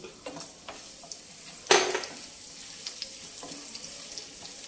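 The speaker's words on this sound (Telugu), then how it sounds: "ఇదిగోనండి నూనె కాగింది. ఇందులోకి వెల్లుల్లిపాయలు, మినప్పప్పు, కొంచెం శనగపప్పు, ఆవాలు, జీలకర్ర, ఎండుమిర్చి" Garlic, black gram and bengal gram lentils, mustard seeds, cumin and dried red chillies dropped into hot oil for a gongura chutney tempering, giving one sharp burst of sizzle that quickly settles into a faint crackle, no talking.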